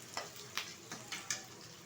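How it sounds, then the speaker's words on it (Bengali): Onions lightly frying in a pan for cashew chicken, a soft steady sizzle with five evenly spaced clicks or stirs over a couple of seconds, close and fairly quiet with no talking. "হালকা করে ভেজে নেবো পেঁয়াজটা"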